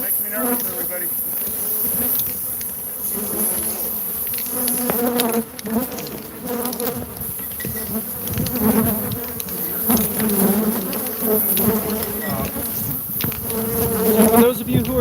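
A large swarm of Africanized honeybees around a hive in a shed, a loud dense buzzing drone that stays close and continuous, with individual bees whirring past.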